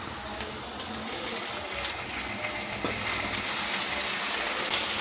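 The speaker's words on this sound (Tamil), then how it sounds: "பூண்டு சின்ன வெங்காயம் வதங்கிடுச்சு." Garlic and small onions (shallots) sauté in a pan for poricha kuzhambu, a continuous dense hiss and sizzle, fairly faint and steady, with no voices.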